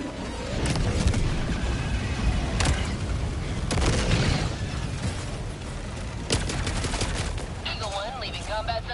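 Explosions and dense gunfire from the Helldivers 2 video game fight against bugs, loud, steady bursts and booms through the whole stretch with shouting voices mixed in.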